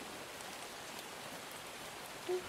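Continuous rain ambience for a tabletop role-playing game, a constant close patter of raindrops on a surface, even and uninterrupted, without speech.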